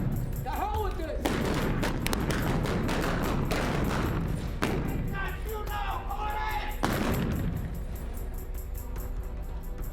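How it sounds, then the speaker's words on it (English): The O.K. Corral gunfight scene in a film: repeated gunshots crack out in irregular bursts and volleys over a busy, loud soundtrack, with voices heard among the shots. "Gunfight in the OK Corral."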